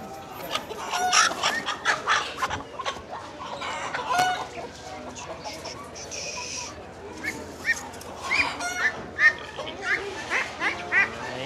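Silkie chickens clucking and a rooster crowing at a poultry market, a busy flock of overlapping calls up close, with voices and children in the background.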